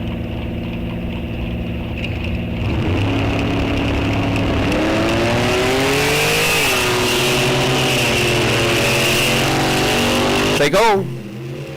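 Drag racing cars in a Sunoco Race Fuels ET Series event launch down the strip, giving a loud, sustained engine roar that climbs in pitch with each gear and then cuts off sharply near the end.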